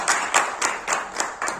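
A group claps at a municipal council general meeting: about six rhythmic bursts of hand clapping, close and fairly loud, without speech over them.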